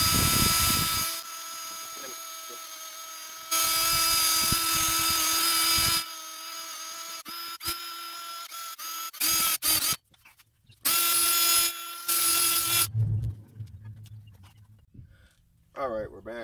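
Cleaning work on the bare hub face of a 2004 Chrysler Pacifica during a front brake and rotor job, with bursts of loud whirring tool noise in long stretches separated by quieter gaps and clanks.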